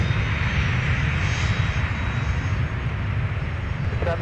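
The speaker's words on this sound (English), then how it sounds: "let's have another look at this butter smooth touchdown from the A319" Airbus A319 airliner touching down on the runway at Minneapolis–St. Paul airport, a loud continuous engine roar with deep low rumble filling the whole stretch, steady and close, no clear talk.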